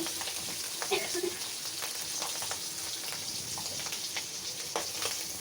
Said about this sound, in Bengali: এখন মাছগুলো আমি ভুনে চলবো